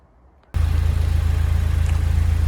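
A BMW race car engine with a straight-through exhaust starts up abruptly and then holds a loud, steady idle with a deep, pulsing burble.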